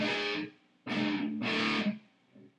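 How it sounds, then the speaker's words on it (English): Three heavy, distorted, palm-muted electric guitar chords ring out one after another, each cut short, followed by a faint muted pluck. "You're going to want to switch to a distortion channel, and you're going to palm mute."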